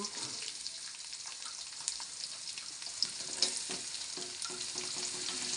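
Onions fry in a pan with curry leaves for a squid dish, giving a steady, bright sizzle with scattered small pops and faint stirring clicks. No one speaks.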